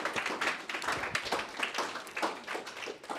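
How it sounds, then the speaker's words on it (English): Audience applause welcoming Mayor Mike Bodker to address the SLJC Class of 2023, a steady patter of many hands clapping at moderate level, no voices over it. "please give a wonderful applause and welcome Mayor Mike Bodker"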